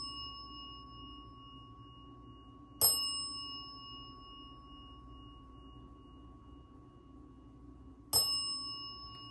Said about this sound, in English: No more hitting the bell,